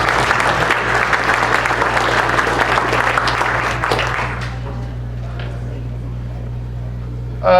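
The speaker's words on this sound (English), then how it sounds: "can I get a round of applause for them?" An audience at a home builders association general membership meeting applauds the sponsors, a dense burst of clapping over a low room hum that fades out midway, leaving quiet hum and a brief sound at the end.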